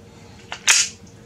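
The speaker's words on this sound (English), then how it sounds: "Yeah, working the slide." A Glock 44 pistol slide is racked, giving a short metallic clack followed by a sharper snapping click, close up and brief.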